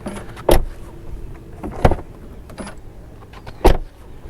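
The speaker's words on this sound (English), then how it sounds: "And now a quick door sound check." Door of a 2023 Tesla Model 3 RWD shuts with three solid thuds spaced a second or more apart, close and clear over faint background hum.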